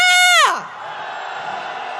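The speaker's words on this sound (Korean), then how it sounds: "윤석열 탄핵 함성 시작!" A protest crowd at a candlelight march in Hongdae, Seoul, calling for President Yoon Suk-yeol's impeachment: one long shouted cry falls away into a loud, sustained roar of many voices close by.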